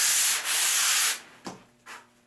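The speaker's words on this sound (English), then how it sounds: "Take like a fine grit sandpaper or screen, and I flatten it." Fine grit sandpaper rubbed across a surfboard stringer to flatten it: a loud close scrubbing stroke lasting about a second, then two short, softer rasping passes.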